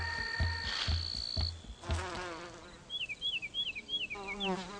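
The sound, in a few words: solitary bees buzzing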